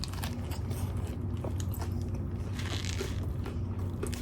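Crunchy bites and close, steady chewing of a Popeyes classic chicken snack wrap, loud and near with no talking over it.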